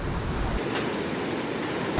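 Roaring water at the Iguazú waterfalls near the Garganta del Diablo, a dense continuous rushing roar with wind buffeting, steady and loud throughout with no voices.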